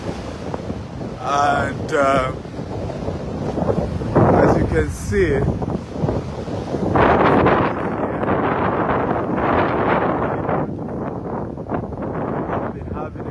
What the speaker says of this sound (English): The only disadvantage coming this time is that it is very windy.